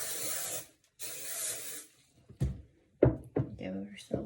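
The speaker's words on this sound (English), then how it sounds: "Give ourselves a spray" Two bursts of hair spray from an aerosol can, each lasting about half a second, close and hissing, followed by soft handling noises and a brief voice.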